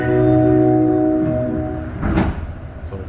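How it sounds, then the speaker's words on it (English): Metro train doors slide shut with a rushing whoosh and a soft thump, over the steady hum and whine of a stationary train at Brossard Station, Montreal, at night. "So the doors close, green light comes on,"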